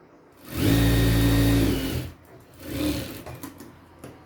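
Sewing machine stitching a two-inch hook strip onto the right side of a blouse, one loud whirring burst of about one and a half seconds followed by a softer, shorter run.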